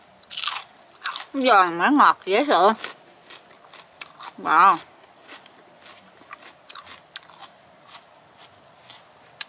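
Close, crunchy bites into a fresh sweet pepper followed by softer chewing, with someone talking over and between the crunches.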